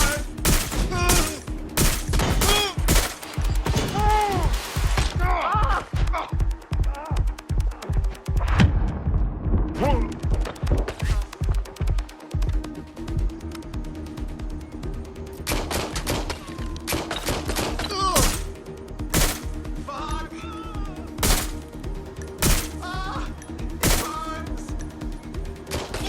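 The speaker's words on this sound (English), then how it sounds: "Shots fired! Shots fired!" Gunfire in the video game Watch Dogs: Legion comes in rapid bursts and repeated loud shots, dense volleys with brief pauses and scattered single cracks, with a voice occasionally shouting amid the shooting.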